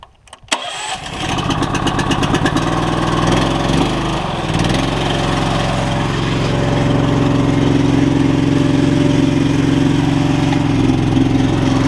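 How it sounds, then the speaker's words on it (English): An orchard platform vehicle's engine cranks and catches after a few rapid turns, then settles into a loud, steady mid-pitched running drone that carries on close by as the vehicle is driven, with no talking. "So we'll fire it up, just give this thing a little spin around for you."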